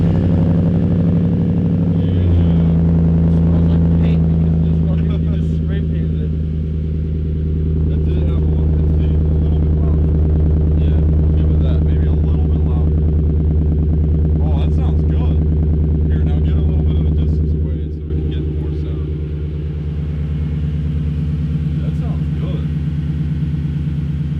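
A vehicle fitted with an axle dump exhaust rumbles loud and deep, holding a heavy, steady engine drone with a brief dip in level as the revs shift, close to the microphone throughout.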